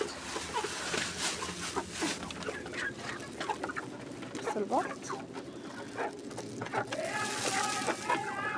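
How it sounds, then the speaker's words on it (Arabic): Muscovy ducks, kept alongside chicks, make soft hissing and quacking calls mixed with clucking fowl nearby, close and continuous, while someone talks over them. "بصوا البط بصوا البط"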